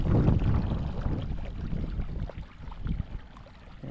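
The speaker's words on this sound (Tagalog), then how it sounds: "ganyang oras, napakalakas ng hangin" Strong wind gusting over open ground beside a calamansi planting, a rough buffeting roar that is loudest at the start and then eases into a softer, fluttering rush.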